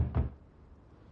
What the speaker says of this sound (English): Ryan Gosling knocks on her door to coax her